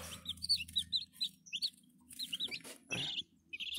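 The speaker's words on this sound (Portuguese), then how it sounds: "Já tirou cinco que estão aqui, ó. Cinco pintinhos." Hens and small chicks clucking and peeping close by during egg hatching, with soft high chirps repeating in quick short clusters over low quiet clucks.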